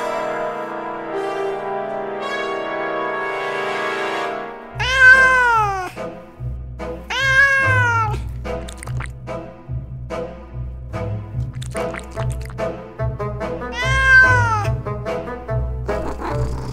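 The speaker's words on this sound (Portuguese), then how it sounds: "A Manu virou um gatinho." A cat meows repeatedly, several clear, rising-and-falling cries at close range set over a bouncy backing tune in a cartoon-style scene.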